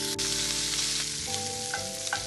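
Bacon fries in hot oil that has had ginger cooked in it, giving a loud, steady sizzle close by, with stirring scrapes and a few clinks from the pan and no voices.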